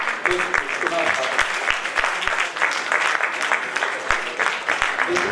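A theatre audience in Kanpur applauds after a Bela Theatre Karwan Delhi play, with dense, sustained clapping filling the hall, sharp individual claps standing out and faint voices mixed underneath.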